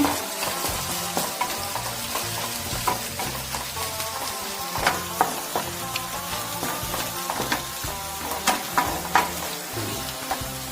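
Mussels frying in coconut oil in a pan, a dense crackling sizzle with frequent sharp pops and scraping stirs, close and steady throughout.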